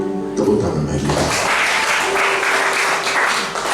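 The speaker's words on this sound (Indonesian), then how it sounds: "Tepuk tangan bagi kita." A church congregation at an evening prayer service breaks into loud, sustained applause that fills the room, following a brief moment of speech at the start.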